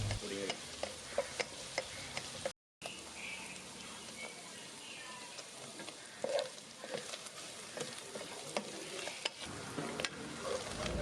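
Paneer cubes shallow frying in butter in a pan, a steady crackling sizzle with sharp spitting pops and occasional stirring scrapes, close and fairly quiet, with a brief gap near the start.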